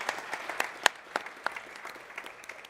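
Audience applause for a conference panel at the close of a live-streamed talk, a thin scattering of claps with a few sharp ones standing out, fading toward the end.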